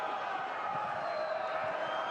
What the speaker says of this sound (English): Crowd levels rise around the Stade Gilbert Brutus